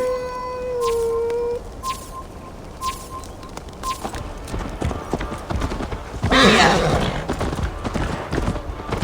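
Hooves clip-clop in a quick galloping rhythm in the video game Assassin's Creed Valhalla, a horse whinnies near the start, and a loud rustling burst comes later.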